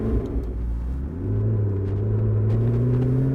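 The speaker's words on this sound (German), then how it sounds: "Dieser V8, hört ihr das?" McLaren MP4-12C Spyder V8 rumbling close by, a deep steady growl that rises in pitch partway through as revs climb, loud and continuous with no talking.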